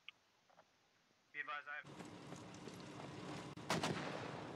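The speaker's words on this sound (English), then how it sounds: "More mortars going out." Mortar fire in the military video game Squad, with a burst of talk followed by sustained booming rumble and several sharp launch thumps, loud and continuous against a busy battlefield background.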